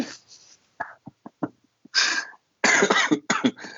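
Several bursts of harsh, close coughing, a few small hacks followed by louder, heavier coughing fits with brief pauses between.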